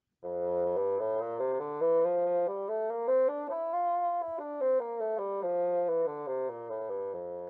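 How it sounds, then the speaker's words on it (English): Solo bassoon demonstrated as an orchestral instrument, playing a sustained, reedy melodic line that rises in pitch and falls back again, clear and close with no talking. "Moving on to the bassoon, which sounds like this."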